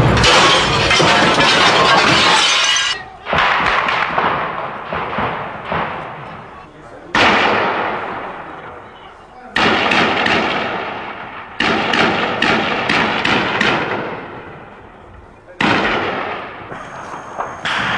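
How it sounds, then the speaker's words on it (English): Heavy gunfire from soldiers in parkland answering incoming sniper fire, loud close bursts and sharp cracks repeating in waves with echoing decay between volleys. "Soldiers rushed to answer the incoming sniper fire."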